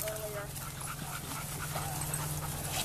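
A bull terrier pants in quick, steady breaths close to the listener, with a faint whimper and outdoor background noise.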